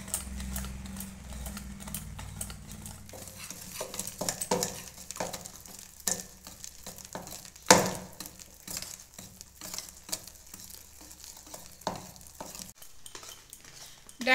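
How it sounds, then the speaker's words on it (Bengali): Kalai lentil batter for rosbora sweets is beaten by hand in a bowl, giving irregular soft slaps and scrapes of quick whisking strokes with occasional sharper clacks, fairly quiet and close. "ডালটা দেখুন আমি খুব ভালো করে ফেটিয়ে নিয়েছি আর একদম এটা সাদা হয়ে গেছে"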